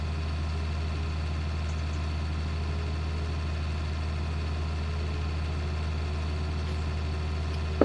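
A recently serviced farm tractor engine runs steadily at idle, a continuous low droning rumble with a mid-range hum that stays even throughout, up close and with no talk over it.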